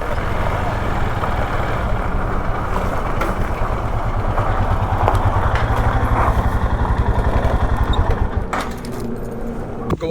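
A motorcycle engine idles steadily at a roadside stop on a highway in India, producing a continuous low, throbbing chug for most of the stretch before it tapers slightly near the end.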